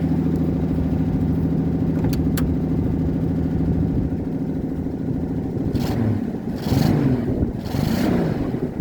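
A 1981 Mercury Capri engine idles with a low steady rumble, then revs up a few times near the end, the pitch rising and falling in short bursts.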